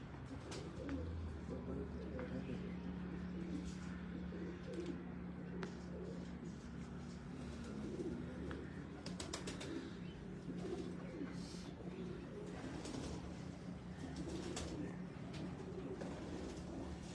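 A female pigeon is held in the hand, and soft, steady cooing from pigeons runs at a low level beneath quiet background murmur and a few faint bird chirps.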